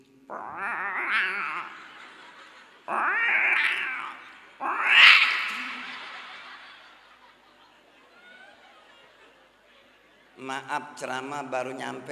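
A voice imitates cats caterwauling while mating, giving three rising, drawn-out yowls in a row. A pause follows, then he goes on talking.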